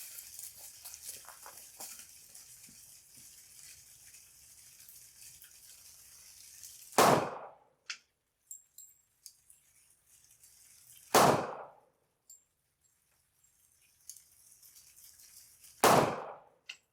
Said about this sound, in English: I'll shoot them on the Glock 27 again with a Glock 23 barrel in it